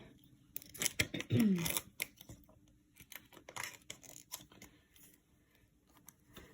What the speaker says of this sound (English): I'm going to tear open this koozie.